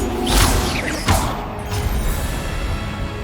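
Levioso levitation spell cast in Hogwarts Legacy: a loud whooshing magical burst with a thump, then a second swish and rumbling mechanical movement that settles into a steady hum.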